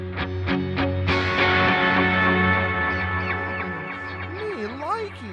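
An electric guitar plays a crunchy, slightly clean tone through the Neural DSP Archetype Rabea plugin, with picked notes ringing out, a sustained chord, then bending melodic lines trailing with delay.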